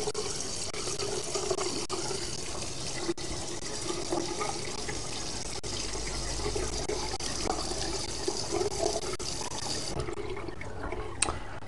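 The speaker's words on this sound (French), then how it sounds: "on va rincer avec un tout petit peu plus de pression" Water rushes steadily at higher pressure as a Cartis fountain is rinsed from a tap, a continuous close hiss and splash that eases slightly near the end.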